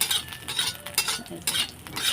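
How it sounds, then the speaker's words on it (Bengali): Brinjal fries in oil with neem leaves in a home kitchen pan, a steady close sizzle broken by repeated stirring scrapes and light utensil clinks, with no talk. "আমি বেগুনটা ভাজা বসিয়ে দেবো"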